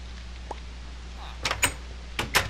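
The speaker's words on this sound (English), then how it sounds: "Alright, put the door in." A wooden door is placed in Minecraft while building a greenhouse, giving a few short, sharp knocking clicks in two close pairs over a quiet background.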